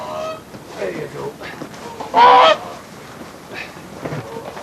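Swans at Martin Mere, Burscough, call with a short, loud honking burst after being released back onto the mere, standing out midway through quieter background sounds.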